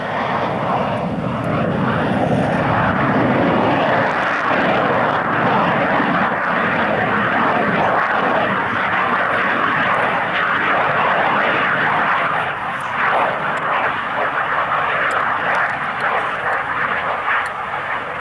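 Military jet performing a wheels-down flying display at the 1992 RAF Coningsby airshow, its engine a loud, sustained roar that swells and eases slightly as it passes, with a commentator's voice faintly beneath.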